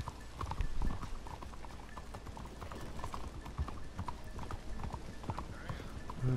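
Horse hooves clip-clop in Red Dead Redemption 2, a steady galloping patter heard at moderate level over game ambience, with faint voices in the background.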